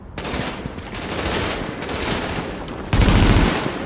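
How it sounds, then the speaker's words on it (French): Sustained automatic gunfire in the video game Tom Clancy's The Division, fired from cover, a loud continuous rattle of shots with a heavier burst near the end. "on peut tirer alors qu'on est en couverture."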